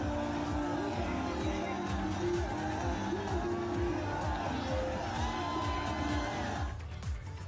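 Crowd of party workers at an Akhilesh Yadav Vijay Rath Yatra rally, a dense roar of shouting and cheering with vehicle noise, steady and loud before cutting off near the end.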